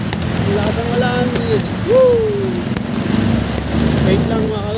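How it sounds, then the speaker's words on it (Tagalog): Heavy rain pours steadily during a delivery ride on a Honda Click 125 scooter. The hiss stays constant and loud, and a voice and brief tonal sounds rise over it now and then. "Grabe, lakas ng ulan"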